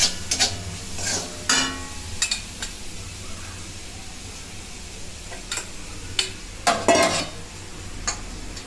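Mashed cauliflower is sautéed and stirred in a pan, a low sizzle under repeated scraping and clinking of a utensil against the metal, in irregular bursts.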